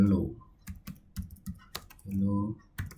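Someone types Python code on a computer keyboard, producing scattered sharp key clicks in an irregular rhythm, close and moderately loud, with a low voice humming or murmuring between the keystrokes.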